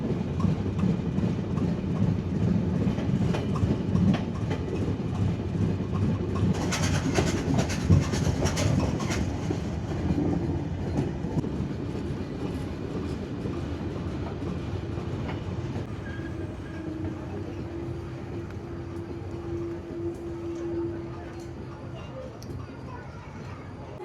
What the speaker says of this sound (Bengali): এখন আমাদের ট্রেন এন্ট্রি করছে নড়াইলে